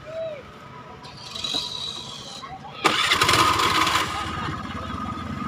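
A motorcycle engine is started on a bridge: a short cranking attempt, then the engine catches into a loud, rough running roar, with a voice speaking early on and traffic-like ambience throughout.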